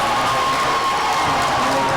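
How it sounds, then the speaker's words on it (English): Loyola Dons home crowd at a varsity basketball game cheering, a loud, dense and sustained roar of many voices filling the gym with no pauses. "That one's got the Loyola Dons crowd on their feet."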